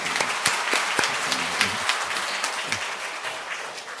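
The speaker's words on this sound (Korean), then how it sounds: "우리 한번 박수로 격려해 드릴까요?" A church congregation claps to encourage a member back after cancer surgery, a steady wash of many hands with a few sharp nearby claps standing out, alone without talk.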